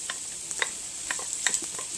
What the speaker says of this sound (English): So let's get these onions in here.